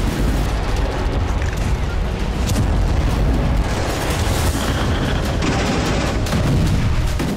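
An explosive blast destroys a military vehicle. Heavy booms and a thick low rumble mix with scattered sharp pops and crackles, staying loud and unbroken for several seconds.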